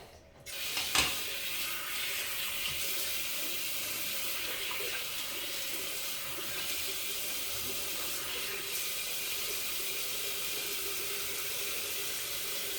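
Tap water running continuously into a sink while shaving cream is rinsed off a razor, a steady close hiss that starts after a brief click and carries on unbroken to the end.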